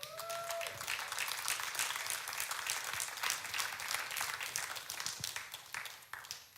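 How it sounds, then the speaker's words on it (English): A church congregation applauds during an Easter Samoan Christian service, a dense, steady wash of many hands clapping that fills the room and holds for several seconds before thinning near the end, with a brief tonal sound at the start. "Give Jesus a hand clap."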